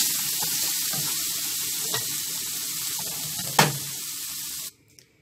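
Onion frying for a tomato sauce on a gas burner sizzles in a steady hiss, with a couple of sharper spits, then cuts off abruptly as the flame goes out.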